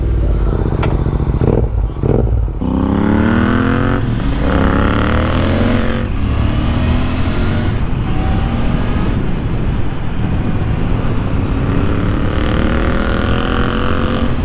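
A Royal Enfield Interceptor 650 motorcycle with its stock exhaust is revved hard nearby, its loud continuous engine note climbing and falling in repeated rising sweeps, with no talking.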